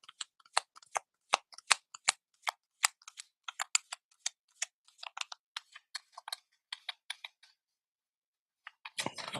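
Tarot cards being shuffled in a rapid run of crisp, papery riffling clicks, close and alone, the strokes bunching and thinning before stopping, with a short low rustle right at the end.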